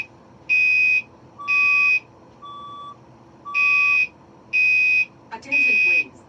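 A building fire alarm sounds in repeated shrill electronic beeps, each lasting about half a second in a regular pulsing pattern, loud and close, with a brief break in the rhythm and faint background noise between bursts.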